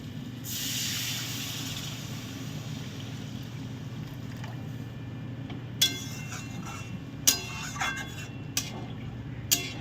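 Water poured into a hot cooking pan of boiled potatoes for a fish curry with taro gives a broad hissing rush at the start, then settles into steady simmering noise with a few sharp clinks near the end.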